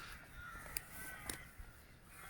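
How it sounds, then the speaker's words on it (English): At dawn at the Hill of Tara, a bird calls from a tree in two or three short, faint, distant cries over soft outdoor ambience. "There's a bird on the tree, look."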